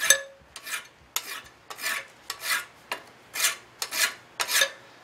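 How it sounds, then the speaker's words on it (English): Steel file rasping across a hand-forged letter opener blade to remove hammer marks, about nine steady back-and-forth strokes in an even rhythm, close and clear with no talking. "I'm just going to file till those disappear"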